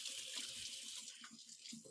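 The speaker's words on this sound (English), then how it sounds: "Let me give my hands a quick rinse." Kitchen tap water running steadily into a sink while hands are rinsed, a continuous close splashing hiss with small shifts in the flow as the hands move under the stream.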